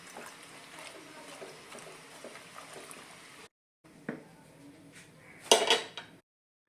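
A curry of vegetables being mixed in a pot and then covered: soft clinks and scrapes of a utensil, a brief pause, then a louder clatter as the lid meets the pot, close and alone.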